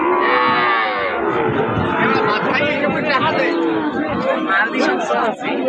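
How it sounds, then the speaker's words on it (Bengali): Cattle moo repeatedly at a busy livestock market, long low calls rising over a constant hubbub of crowd chatter and nearby talk. "প্রচুর পরিমাণ গরু হাটে।"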